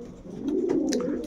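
Pigeons in a pigeon loft give a short, soft, throaty coo that swells midway, close and moderately loud with no talk.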